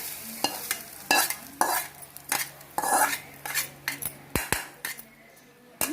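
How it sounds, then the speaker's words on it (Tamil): Kuzhi paniyaram batter stirred and mixed in a metal bowl with a spoon, repeated scraping clinks and knocks in an uneven rhythm, close and clear with a faint sizzle underneath. "கலக்கிட்டு நல்லா கலந்து வச்சுக்கலாம்"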